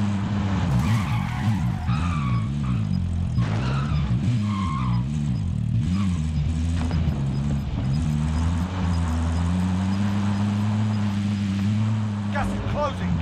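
Vehicle engine revving with repeated tire skids and squeals in Call of Duty: Modern Warfare Battle Royale, loud and close, the engine pitch rising and falling as it drives, with brief game voice lines over it.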